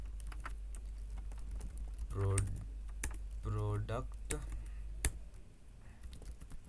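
Keystrokes clatter in quick irregular bursts on a computer keyboard as code is written, with talking heard over the clicking.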